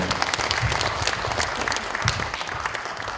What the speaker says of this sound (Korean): 축사해 주신 우리 김순남 의원님께 다시 한번 큰 박수 부탁드리겠습니다